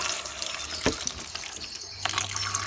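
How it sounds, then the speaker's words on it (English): Water poured from a tap into a Burpee culinary herb seed starter kit to expand the soil pellets, a steady splashing trickle with a couple of sharper drips and knocks, close and moderately loud. "So, I'm going to add the water and then I'm going to go make myself breakfast."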